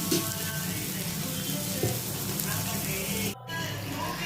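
Spices with black pepper powder fry in a pan for dosa preparation, giving a steady close sizzle with a brief gap near the end.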